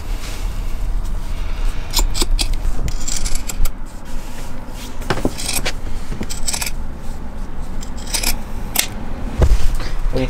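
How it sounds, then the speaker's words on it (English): Repeated crisp snips and crunches of scissors cutting during a closet build in a short bus conversion, irregular bursts close by over a low background rumble, with no speech. "Here, you want some real scissors?"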